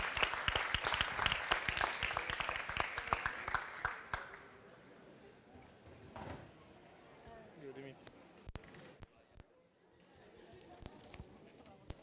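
A conference audience applauds with a burst of loud clapping for about four seconds, then it dies away into quieter room noise, scattered claps and footsteps, with people talking faintly.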